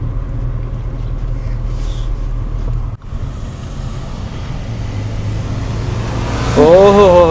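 A Kia Seltos climbs the hairpin bends of the Ooty road, with a steady loud low engine drone and road and wind rumble inside the cabin, a brief dip partway through, and a rising whine near the end.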